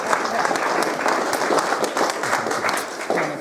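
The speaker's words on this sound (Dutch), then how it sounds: "applaus!" Loud, dense audience applause at a presentation, with steady clapping from a crowd for the full short stretch and faint voices mixed in.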